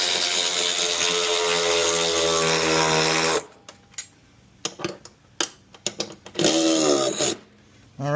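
A power tool driving a socket to tighten fasteners during a Tesla upgrade, a loud steady whir for several seconds that cuts off, followed by short bursts and clicks, then a second brief run.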